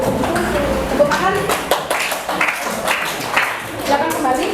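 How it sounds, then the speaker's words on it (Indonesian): Scattered clapping from a small group of schoolchildren in a classroom, uneven and brief, mixed with children's voices talking over it. "Tepuk tangan."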